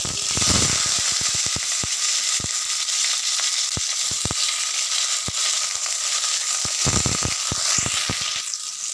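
Flat beans frying in oil in a wok give a steady, loud sizzle with scattered sharp crackles and pops throughout, and no voices.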